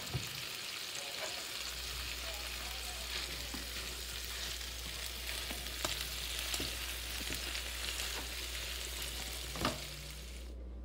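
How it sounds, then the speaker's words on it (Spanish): Chorizo and longaniza sausage frying in a pan for frijoles charros, a steady close sizzle and crackle with occasional pops and stirring scrapes over a low constant hum. "Ya vamos a poner nuestro chorizo a freír y también nuestra longaniza."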